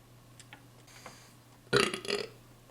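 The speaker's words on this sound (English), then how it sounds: "Ew, water burp." A single loud, wet burp erupts after a few faint ticks, rising then trailing off in two gurgling pulses.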